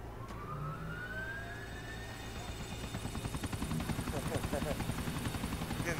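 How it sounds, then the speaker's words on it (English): A helicopter in Grand Theft Auto 4, its rotor building to a rapid rhythmic thudding that grows louder over a steady engine whine, with a rising tonal sweep early on. "This guy's got a helicopter in his backyard."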